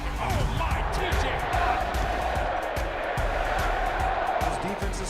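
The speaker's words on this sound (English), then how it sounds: "The crowd at Acrisure is so loud." Stadium crowd cheering at Acrisure Stadium in Pittsburgh on an NFL game day, a dense, loud roar throughout with sharp thumping bursts, while a commentator talks over it.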